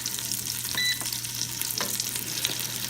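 Chicken pieces browning in the pot of an electric pressure cooker, a steady close sizzle with a few stirring scrapes and a faint constant hum beneath, no speech.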